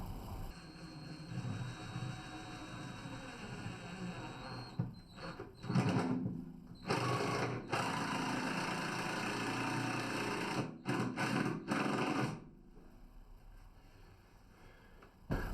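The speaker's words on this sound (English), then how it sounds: "So I'm going to stand on the floorboard where I'm putting the screw in." A power driver sinks screws into chipboard floorboards during a bathroom renovation, with several bursts of whirring motor and pauses between them, close by in a quiet room.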